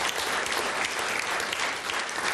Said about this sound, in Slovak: Ďalšie Audi získava potlesk.